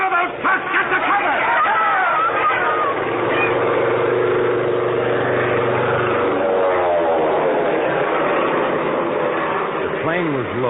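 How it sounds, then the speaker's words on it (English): Low-flying propeller plane making a run down a town's main street, a loud droning engine roar that builds and shifts pitch as it passes, with voices talking over it. "The plane was low, making a run right down Main Street."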